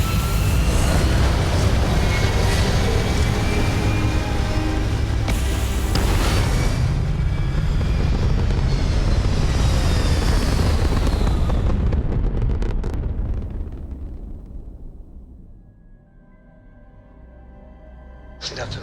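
Spaceship liftoff in the Starfield video game: a loud, sustained roaring rumble of engines with booming blasts that fades away near the end into quieter ambient tones.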